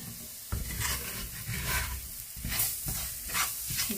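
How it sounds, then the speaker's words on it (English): Flour toasting in a pot for wild rice and mushroom soup, stirred with a utensil that scrapes the bottom in repeated strokes over a soft continuous sizzle, close by and without talk. "My flour is a toasting."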